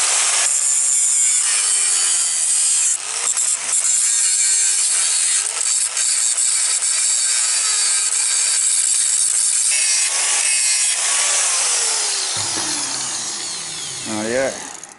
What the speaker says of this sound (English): I'll just grind that off so I can bolt on it.